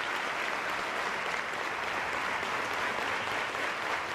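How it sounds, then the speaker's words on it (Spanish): Steady, sustained applause from parliamentarians filling Cuba's National Assembly hall, an even wash of clapping heard at moderate distance with no pauses. "Díaz-Canel y Castro se abrazaron en medio de un sonoro aplauso de los parlamentarios."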